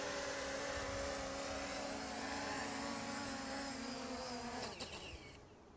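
Ruko F11 Pro 2 drone descending to land outdoors, a steady loud buzzing whine of its propellers that holds close, then drops and cuts off as it touches down.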